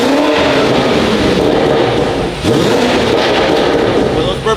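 A BMW engine with a downpipe exhaust revs hard, a loud, close, sustained roar that dips briefly and then climbs again, with voices faintly under it.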